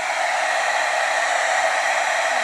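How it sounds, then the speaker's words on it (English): An embossing heat gun blows hot air in a continuous, steady whoosh at close range, loud and unchanging from start to finish with no talking. "My embossing heat gun"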